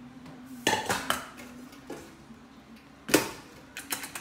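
A metal lid being fitted and twisted onto a Japanese pressure cooker, giving several sharp clanks and scraping metallic clicks at uneven intervals, close up and with no talking.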